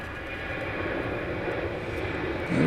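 A JetBlue airliner at LAX produces a steady, moderately distant engine drone that grows a little louder toward the end.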